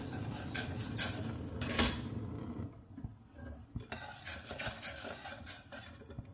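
Dipping sauce in a pot, stirred with a utensil that scrapes and clinks against the metal in irregular strokes, quiet and close, with a louder knock partway through.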